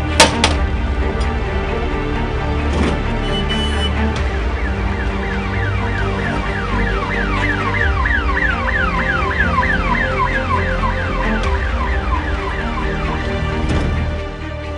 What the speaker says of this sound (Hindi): कॉल सेंटर ने अलर्ट किया और एम्बुलेंस फौरन निकल पड़ी।